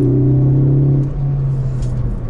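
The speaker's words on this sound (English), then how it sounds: "And I do have the Ford Performance Sport exhaust. That is a Borla exhaust" A Ford Focus ST engine fitted with a Borla Ford Performance sport exhaust idles with a loud, deep, steady drone that eases off about halfway, heard alone up close.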